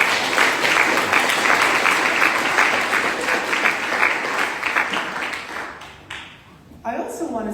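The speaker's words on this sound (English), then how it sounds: "Applause for our school leaders." Sustained crowd applause for school leaders at a STEM teaching awards ceremony, dense and steady clapping that thins out near the end before a brief voice cuts in.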